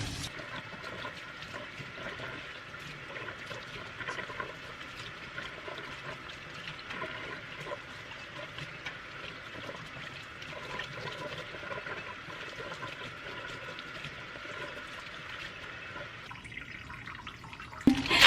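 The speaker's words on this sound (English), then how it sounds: "So I'm just gonna wash the romaine and then chop it up." Romaine lettuce washed under a running kitchen tap, a steady close rush and splash of water lasting throughout, with no talking.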